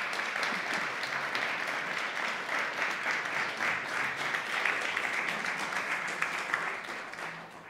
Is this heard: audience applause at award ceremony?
yes